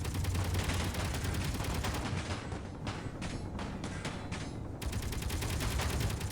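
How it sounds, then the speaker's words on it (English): Battle gunfire in the video game Underground Alone, with dense rapid volleys of shots rattling continuously and loudly, thinning briefly in the middle before resuming at full intensity. "they're shooting! The shooting has begun!"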